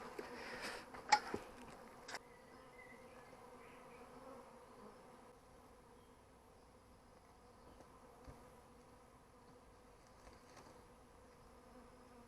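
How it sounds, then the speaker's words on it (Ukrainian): Honey bee swarm settling into a log hive, a steady low insect hum running throughout with a few brief knocks near the start, fairly faint and without voices. "бджілки зараз собі там вони попадали можливо на підлогу трохи, але вони піднімуться, облітаються і будуть працювати"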